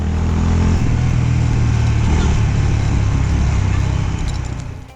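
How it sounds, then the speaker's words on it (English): Honda CB350 motorcycle engine grunting at low revs, a steady close rumble that holds throughout before easing off near the end. "For many, the sound of the engine grunt is quite engaging"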